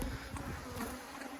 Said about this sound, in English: bees trying to sting the camera